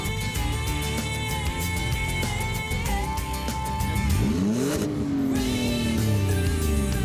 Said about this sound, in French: Elle a un échappement Don Silencioso, échappement espagnol, qui fait un très joli bruit aussi.